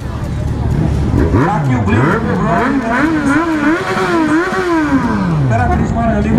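Big motorcycles at a motorcycle event rev up close, engines climbing and falling in repeated swells under a crowd's babble, with people talking nearby.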